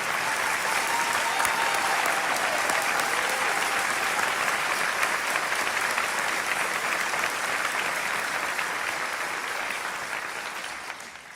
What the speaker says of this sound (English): Let's give our first responders a round of applause.